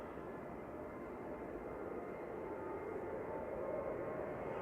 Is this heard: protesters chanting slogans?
no